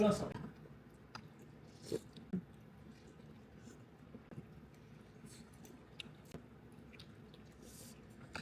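People eating a home meal with rice, with soft chewing and faint utensil clicks close by, quiet and intermittent under a low room hum.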